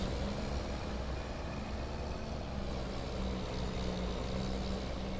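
Steady vehicle traffic in Farming Simulator 25, a continuous engine rumble with low drones and a broadband road hiss of cars passing at even loudness, with no talking.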